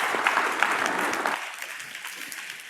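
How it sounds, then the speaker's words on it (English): A crowd applauds steadily, dense clapping that slowly thins and softens toward the end. "you deserve a very strong round of applause"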